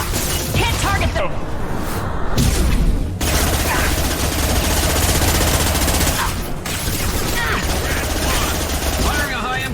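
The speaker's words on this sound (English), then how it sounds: "Firing a high-impact shot." Gunfire in Mass Effect: sustained automatic bursts rattle almost without pause, broken by brief gaps and mechanical clatter, with a voice speaking over the shooting.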